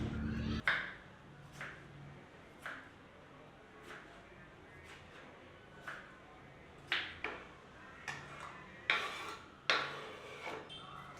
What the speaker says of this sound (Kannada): ಒಂದು ದೊಡ್ಡ ಸೈಜ್ ಟೊಮೆಟೊನ ತೊಗೊಂಡು ಆದಷ್ಟು ಚಿಕ್ಕದಾಗಿ ಕಟ್ ಮಾಡ್ಕೊತಾ ಇದ್ದೀನಿ